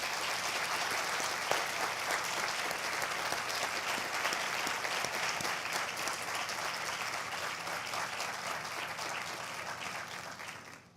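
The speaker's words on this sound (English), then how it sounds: "I'd like to start, if we could, with a round of applause for Connor and his family and Sissy." An audience at a dyslexia center event applauding, sustained dense clapping from a crowd for about ten seconds before fading out at the end, no voices on top.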